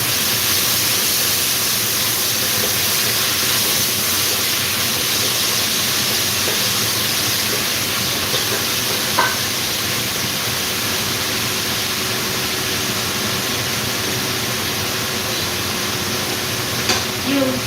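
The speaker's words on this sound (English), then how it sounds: "You need to let your onions and tomato and the garlic and ginger cook perfectly" Onions, tomato, garlic and ginger sizzling in a pan, a steady broadband hiss and crackle running throughout at close range, with occasional faint clicks over it.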